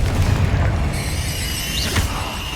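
A Confringo blast spell cast in a wizard video game gives a dense, loud booming rumble with a rising whistle-like streak near the end, sustained over the whole short stretch.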